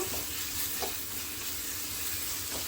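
Ginger garlic paste frying in a pan for homemade chilli chicken, a steady soft sizzle with a few faint scrapes of stirring and no talk.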